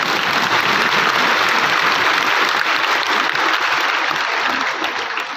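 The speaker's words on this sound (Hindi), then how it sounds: "ताली तो भले बजाओ" Large spiritual gathering breaking into applause, a steady, dense rush of many people clapping together, loud and even throughout and easing slightly at the very end.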